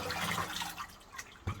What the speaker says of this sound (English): I'm going to put the water on you.